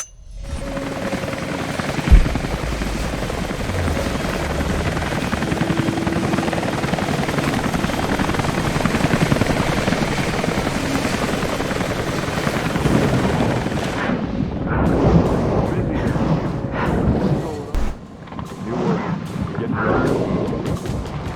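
A helicopter roars steadily in the video game Rise of the Tomb Raider, a loud dense rotor and engine wash lasting throughout, with some rumbling bursts near the end.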